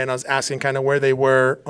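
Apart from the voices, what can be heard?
None of the usual background noises is heard.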